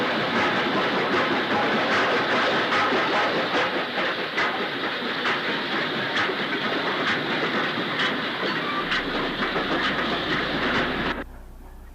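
A BR 9F steam locomotive runs past on a railway, a loud, steady rumble with rhythmic clicking of wheels over rail joints that cuts off abruptly near the end, leaving low background hum.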